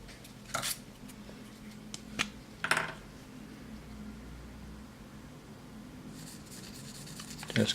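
A bushcraft knife scrapes across a 600 grit sharpening stone in a few short, soft strokes separated by pauses, quiet and close against a faint background hiss.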